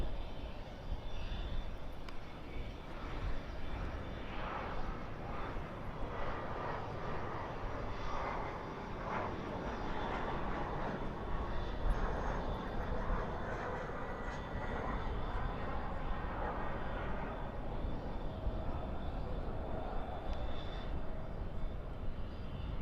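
An Embraer 175 airliner lands at Dallas/Fort Worth airport with spoilers up and thrust reversers deployed, a dense, steady roaring rumble heard from a distance at night, sustained throughout.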